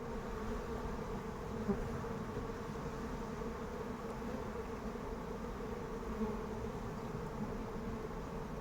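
A dense, steady drone of many honeybees buzzing close by at a hive, constant and unbroken, with no talking.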